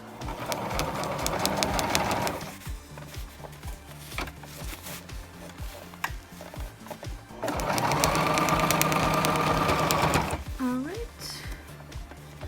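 A sewing machine sews cased elastic into a cloth diaper, running in two loud, close bursts with a quieter pause between them, while a person talks throughout.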